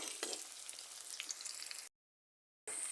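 Quiet, steady sizzle of food frying in a pan while cooking a river-fish and taro-stolon curry, broken by a short silent gap before the faint sizzling resumes.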